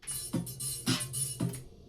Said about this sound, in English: It's the sound of a flanger.